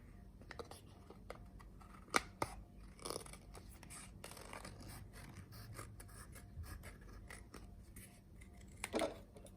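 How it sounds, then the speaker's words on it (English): Scissors snip around a circle in paper or cardstock while the sheet is rotated, giving a run of soft crunchy cuts and rasps at close range with a few sharper snips, steady and quiet. "I like to keep the scissors in one spot and rotate the paper or cardstock to cut an arc or a circle"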